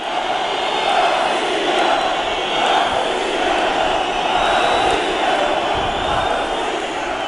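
A large crowd at a pro-Russian rally outside the Crimean parliament chants slogans in a steady rhythmic roar, dense and continuous throughout, heard from within the throng.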